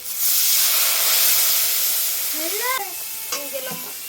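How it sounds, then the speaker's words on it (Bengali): Chili paste, cumin paste and turmeric hit hot oil in a wok with a loud, close hissing sizzle that gradually fades, and a voice comes in near the end. "কড়াইতে তেল দিয়ে দিলাম, লঙ্কা বাটা জিরে বাটা দিয়ে দিলাম, হলুদ দিয়ে দিলাম"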